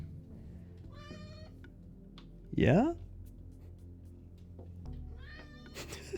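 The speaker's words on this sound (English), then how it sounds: "You guys are going to hear some cats." Several pet cats meow indoors, one loud close yowl standing out among fainter mews, with a person briefly speaking nearby and a steady low room hum underneath.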